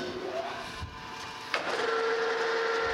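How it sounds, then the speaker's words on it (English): A metal lathe turns a bronze bushing for a casting repair, its steady mechanical whir shifting to a higher, sustained tone partway through, close and continuous with no talk. "bronze bushing is turning perfectly true, and I can work on that outside diameter"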